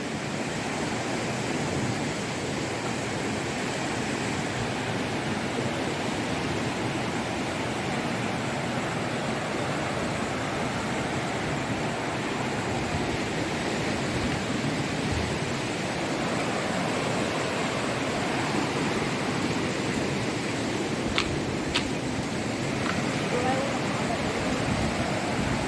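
Floodwater in Assam rushes past in a steady broadband roar that fills the whole stretch like loud surf or a waterfall, constant and close with no breaks.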